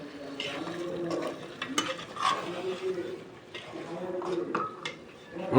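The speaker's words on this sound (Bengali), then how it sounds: "দেখছেন আমরা কি সুন্দরভাবে মাংস রান্না করছি" Meat cooking in a pan in a bachelor kitchen, with stirring and scraping clatter over a low sizzle while people talk nearby.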